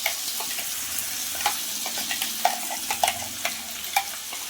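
Ground paste for Andhra-style stuffed brinjal curry fries in a pan and is stirred, a continuous sizzle broken by repeated scraping strokes and soft clacks of the spoon, close and fairly loud with no talking.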